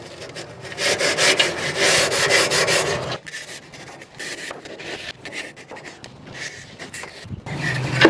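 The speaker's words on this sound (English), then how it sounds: "I can use the same grill scrubber and really give it a scrub" A grill scrubber works hard across the flat cooking surface of a Weber Genesis grill, producing close, loud back-and-forth rasping strokes that pause briefly and then resume in a lighter, broken rhythm.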